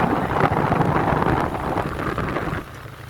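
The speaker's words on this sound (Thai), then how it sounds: "ได้ยินเสียงลมพัดแรงเนาะ" Strong wind buffets a microphone outdoors near a waterfall in mountain country, a loud continuous rumbling roar that eases somewhat in the final half second.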